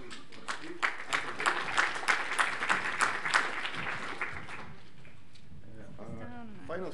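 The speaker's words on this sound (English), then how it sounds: "So another round of applause, please, for Steve." Audience applause in a conference session hall after a speaker, a few seconds of dense clapping that fades out, followed by a person beginning to speak.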